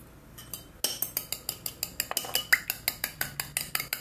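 Steady, rapid beating of a seasoned mixture in a bowl, a fork or whisk clinking against the sides in an even rhythm of about four strokes a second, close and clear with no talk.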